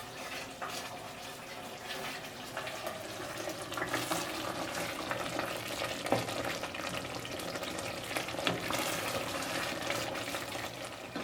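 Ethiopian fasting firfir cooks in olive oil in a pan, giving a busy close sizzle mixed with stirring scrapes and wet bubbling that swells in bursts, with no talk.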